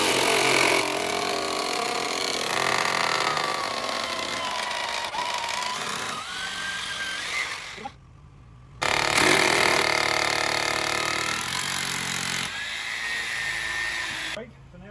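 A power drill whines loudly and steadily, its pitch wavering, stopping for a moment and then starting up again at full speed.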